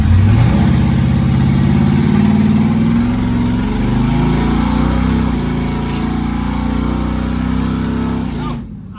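A car engine revs loud and close as the car pulls away in first gear, the pitch climbing steadily before the sound cuts off at the end.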